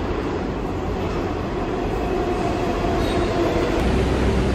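A New York City subway train rumbles steadily, with a dense roar of wheels on rails and faint squeals, continuous and loud throughout, with no talking.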